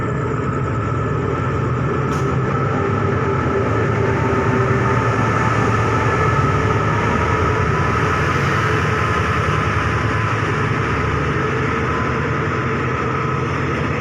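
A Thai night passenger train with sleeper cars rumbles past at Chum Saeng, a steady loud roll of wheels and carriages that holds unbroken for the whole stretch, with no voices.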